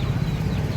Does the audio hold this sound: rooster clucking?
yes